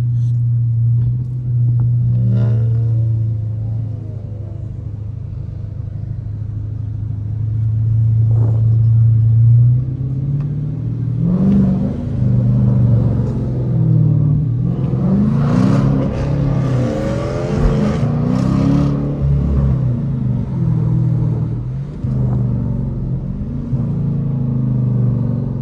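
Loud Dodge Challenger and Charger RT engines rumble and rev through rush-hour traffic, a steady deep drone swelling with acceleration bursts midway, with no talking.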